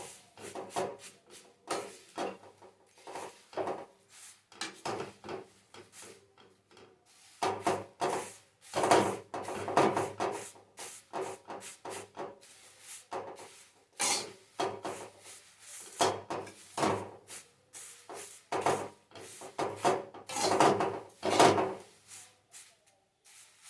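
Food being stirred and turned while dry-roasting in a pan gives off repeated scraping and rubbing, with irregular bursts of knocks close by and no talking.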